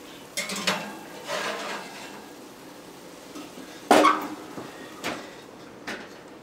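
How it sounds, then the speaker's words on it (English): A pan of salmon fillets slid into a kitchen oven: scattered clanks and scrapes of the metal pan and oven rack, one louder bang partway through, and a few softer knocks after. "we're going to add our pan to our oven with the fillets in it"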